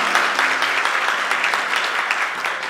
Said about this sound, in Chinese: 我们拍手欢迎景珍成为我们公会教会的家人